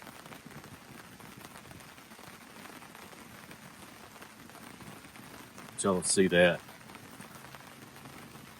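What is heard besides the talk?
rain hitting the top of a hammock canopy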